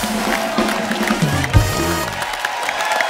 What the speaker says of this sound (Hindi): एक बार तो हमारी विमेन क्रिकेट टीम के लिए जोरदार तालियां